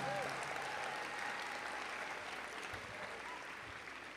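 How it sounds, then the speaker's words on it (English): An audience at a high school graduation ceremony claps for the speakers and performers. The applause sounds fairly distant and soft, an even, continuous patter lasting a few seconds with no voices over it. "Let's give another round of applause to Mr. Byers, Mr. Russo, Mr. Henry, and our"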